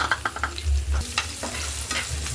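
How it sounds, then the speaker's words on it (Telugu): Chana dal sizzles and crackles in hot oil for a chutney, with a spoon stirring through it in quick scraping bursts, close and steady. "శనగపప్పు వేసుకున్నానండి బాగా ఏగాలి"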